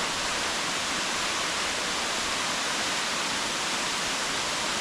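Waterfall in Istria, Croatia, near Buzet, pouring in a dense, continuous roar of white-noise-like water, steady and fairly close for the whole stretch with no voices.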